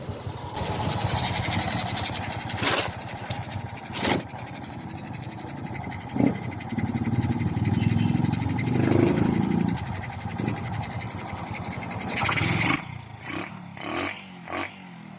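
A Honda XRM 125 motorcycle with a carburetor fault struggles to start, its engine sputtering and catching in uneven bursts with clattering mechanical noise, close by and fairly loud, and no talk.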